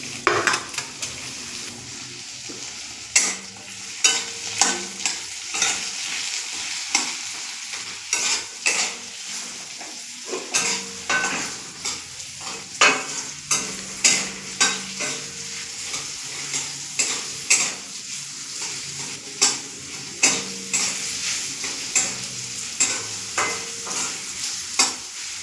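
Cauliflower and spices sizzle steadily as they fry in a pan, with a spoon repeatedly scraping and knocking against the metal in an irregular rhythm, close and clear and with no talk.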